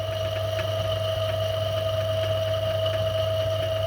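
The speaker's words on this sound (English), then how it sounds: "The lathe is revolving slower than it would normally be made to revolve for doing this kind of" An old, rusty lathe turns slowly with a steady, unbroken mechanical hum and a thin whine, loud, close and even throughout.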